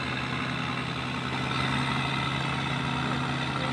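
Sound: tugboat engine running while pushing a sand barge

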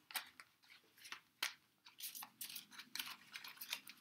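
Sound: shuffling Pokemon trading cards

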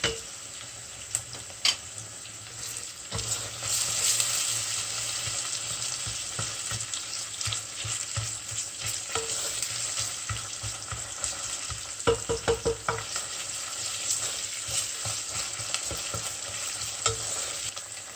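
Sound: onions frying with pepper paste

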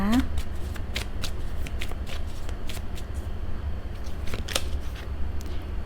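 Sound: tarot cards being shuffled

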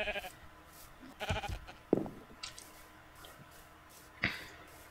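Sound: sheep bleating in the video game Minecraft

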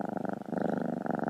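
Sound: cat purring loudly

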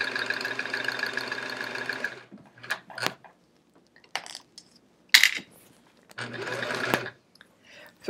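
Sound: sewing machine stitching quilt pieces

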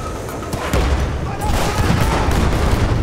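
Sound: grenade explosion and gunfire in the video game Battlefield 6

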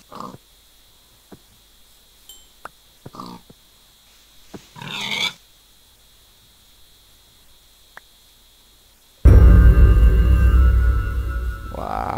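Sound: pigs grunting in Minecraft video game

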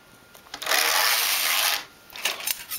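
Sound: knitting machine knitting a row

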